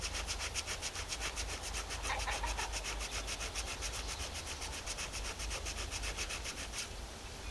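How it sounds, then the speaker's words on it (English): Sandpaper worked over the grain side of a deer hide being made into buckskin, a steady rhythmic rubbing rasp in quick repeated strokes, close but fairly quiet, with no talking. "that section that has the grain, scuff it up, and literally just sand through it"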